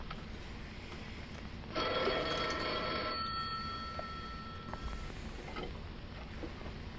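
An old telephone bell rings in a vintage short film about dating, a bright metallic trill lasting about two seconds before trailing off, heard over steady hiss and background noise with no talk.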